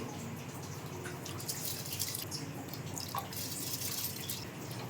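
Water poured steadily into a cooking pot while making mushroom biryani, a continuous close splashing pour with faint dripping, no talk.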